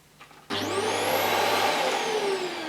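Vax Air Revolve Pet bagless vacuum cleaner switched on and running over a small patch of carpet: quiet handling, then an abrupt loud motor whine that rises in pitch and holds steady as a close, continuous roar.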